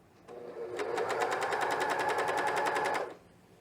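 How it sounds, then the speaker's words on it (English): A cover stitch machine runs over cotton interlock knit underwear in one steady burst of about three seconds, a close, rapid, even mechanical stitching rattle that starts and stops cleanly. "But my cover stitch does really good over these things."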